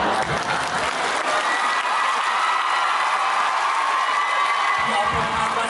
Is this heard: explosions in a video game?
no